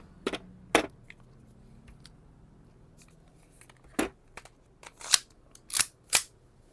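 A G&G STP45 airsoft pistol fires single shots with sharp blowback snaps, two early cracks followed by a quick run of five or six close, loud shots after a pause, with no voices.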